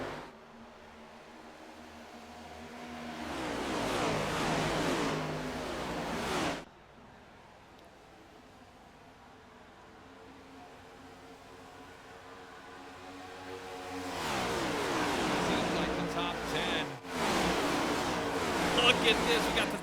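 Stock-car racing video game set at Michigan: engine roars of race cars swell in two loud passes, early and late, with a quieter droning stretch between them, under continuous commentary.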